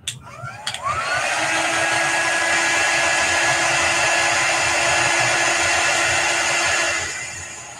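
A heat gun or hair dryer blows steadily to dry chalk paste on a decorated autumn wine bottle, a loud constant whoosh with a faint whine that starts after a brief click and fades out at the end.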